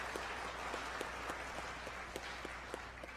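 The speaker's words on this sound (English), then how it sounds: "how about a big round of applause for all of our supporters" Faint, sparse applause from a small audience at an evening craft-fair concert, with a few distinct individual claps standing out over a quiet, hollow room background.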